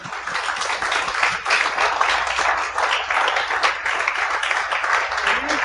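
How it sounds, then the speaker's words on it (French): A studio audience applauds two guests, Alex Bisaillon and Dave Morgan, being welcomed onto a French-language talk show. The clapping is dense and steady, with faint voices mixed in. "bonne main d'applaudissements pour Alex Bizarion, Dave Morgan."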